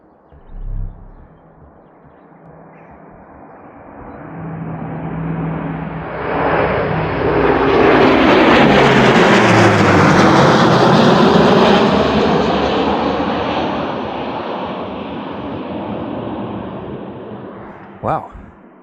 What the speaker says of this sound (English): What kind of plane is that?